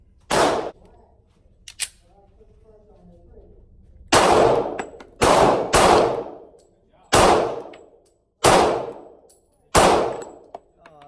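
A Smith and Wesson M&P Shield 45 ACP pistol fires seven sharp, loud shots outdoors: one early, then a quicker string of six, each followed by a short decaying echo.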